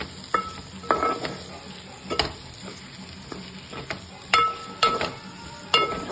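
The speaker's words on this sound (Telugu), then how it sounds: "సో మెయిన్ ఇంగ్రీడియంట్ చిలకడ దుంప వేసేస్తున్నాం. సో వేసేసి 2 సార్లు తిప్పేద్దాం." Sliced sweet potato stirred in a frying pan with oil: soft sizzling underneath a handful of scraping, clinking strokes of a spoon against the pan, spaced irregularly and close up.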